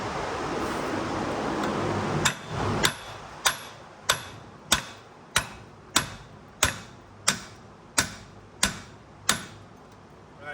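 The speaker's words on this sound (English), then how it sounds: "we're gonna go ahead and hit this with a hammer and knock it free" Metal hammer blows ring out in a steady rhythm, about a dozen sharp clanks evenly spaced, close and loud over a low background rumble, as a truck suspension part on an LBZ Duramax is knocked loose.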